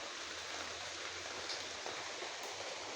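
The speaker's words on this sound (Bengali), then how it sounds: "আমাদের এখানে প্রচন্ড বৃষ্টি হচ্ছে সকাল থেকে।" Heavy rain pours down steadily as a dense, even hiss with no breaks, moderately faint and with no voices over it.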